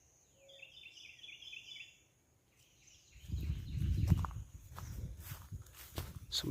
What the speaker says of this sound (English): Some bird calls.